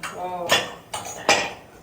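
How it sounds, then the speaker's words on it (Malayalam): A kitchen food chopper clacks through onions in three sharp, fairly loud bursts with brief gaps between them, after a faint murmur of voice at the start. "നമ്മളുടെ ചോപ്പറാണ് അരിയാൻ പോകുന്നത്."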